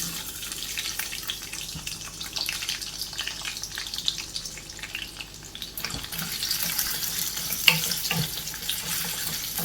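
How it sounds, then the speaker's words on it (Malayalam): Garlic, ginger and green chillies sizzle in hot oil for a pickle, a steady close frying hiss with occasional stirring clinks and no talking. "നമുക്ക് എടുത്തു വച്ചിരിക്കുന്ന വെളുത്തുള്ളി, ഇഞ്ചി, പച്ചമുളക് ഇതെല്ലാം കൂടെ എണ്ണയിലേക്ക് ഇട്ട് കൊടുക്കാം."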